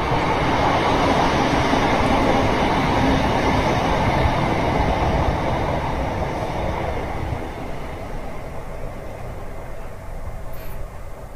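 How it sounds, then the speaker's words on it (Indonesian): A train roars past nearby with a continuous rumble and rattle that slowly fades over the final seconds, with a faint squeal near the end. "Kali ini ada sebuah kereta, kita lihat."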